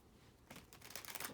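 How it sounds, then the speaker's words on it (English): Tarot cards being shuffled by hand, a faint riffling patter that starts after a quiet half second and grows into quick, dense flutters, close and alone without speech. "I hope I didn't just shuffle those in backwards."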